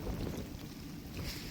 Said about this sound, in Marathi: पाऊस पण आलाय आणि वारा पण सुटलाय.